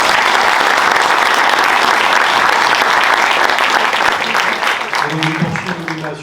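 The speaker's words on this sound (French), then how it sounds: "d'applaudir les intervenants et de les remercier" Conference audience applauding the speakers at a decarbonation talk, loud sustained clapping that tapers off toward the end as voices and chatter emerge.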